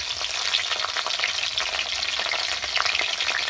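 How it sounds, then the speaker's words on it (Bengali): Panch phoron spices and green chillies fry in a generous amount of hot oil for a vegetarian vegetable curry, giving a loud, steady crackling sizzle with occasional sharp pops and stirring, no voices. "আর দিয়ে দিলাম পাঁচ ফোড়ন একটু বেশি করে আর দিয়ে দেব কাঁচা লঙ্কা"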